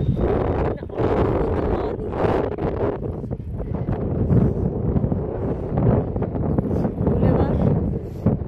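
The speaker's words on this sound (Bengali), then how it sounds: "আজকে প্রচন্ড ঠান্ডা, মানে হাওয়া এমন যে ধাক্কা মেরে আমাকে ফেলে দিচ্ছে" Strong, cold wind gusts buffet the microphone on the Caspian Sea boulevard in Baku, a steady loud rumble and roar that fills the whole stretch with little letup.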